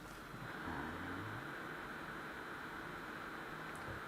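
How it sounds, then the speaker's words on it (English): A small cooling fan built into an Anholi G25B gaming mouse, held close to the microphone, giving a steady faint whirring hiss with a slight whiny edge and air turbulence, unchanging throughout. "Now the fan noise itself, because it's a small fan, is a little bit on the whiny side."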